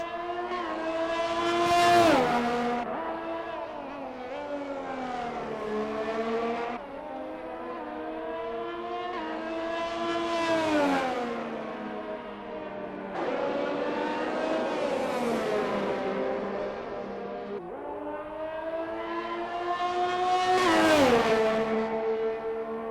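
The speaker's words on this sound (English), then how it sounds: "CKS Dark Rider in that second Ferrari finally coming out onto the circuit." Ferrari race cars in a racing video game scream past one after another, each engine rising and falling in pitch as it revs through the gears, loud and continuous across the circuit.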